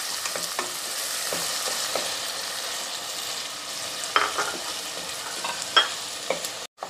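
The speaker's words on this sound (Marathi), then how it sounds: "कांदा चांगला गोल्डन ब्राऊन रंग येईपर्यंत आपल्याला परतून घ्यायचा आहे" Onion sautéing in a pan until golden brown, an even close sizzle with intermittent scraping strokes of a spoon stirring, ending in a short cut, with no one speaking.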